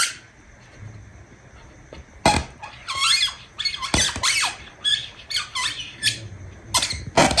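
Rubber balloons being inflated and handled indoors, giving a run of high rubbery squeaks and squeals in irregular bursts, some sharp and loud, with a quiet background between them.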